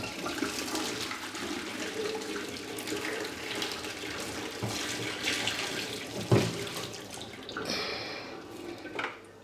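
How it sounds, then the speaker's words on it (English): Water pours steadily out of a freshly descaled kettle into a sink, a continuous splashing rush lasting several seconds with a brief clatter partway through, close and fairly quiet. "So I'm just going to pour out all the water."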